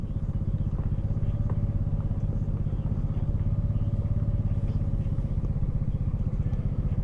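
A Honda 250 steel-bodied scooter engine drones steadily while riding, a continuous loud mid-pitched hum with a pulsing rhythm and no talk.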